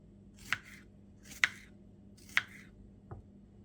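A knife slices through whole strawberries on a chopping board, giving four separate crisp cuts spaced about a second apart, the last one softer, close and clear over a quiet kitchen background.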